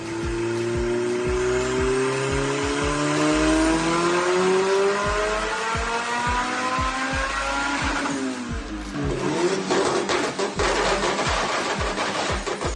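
A turbocharged Honda Civic engine with a built LS block and big Precision turbo revs hard and rises steadily in pitch, then shifts into a rougher, gravelly roar with rapid popping and fluttering.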